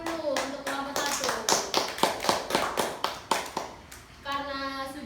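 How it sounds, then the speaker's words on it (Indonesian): Classroom of children claps for group 1 in sharp, rhythmic unison beats, close and loud, with a voice talking before and after the claps. "beri tepuk tangan dulu untuk kelompok 1."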